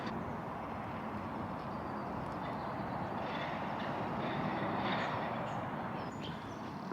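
A train rumbles steadily in the distance, heard from the tram tracks at an industrial heritage museum in Scotland: a low, continuous, fairly faint roar with no talking.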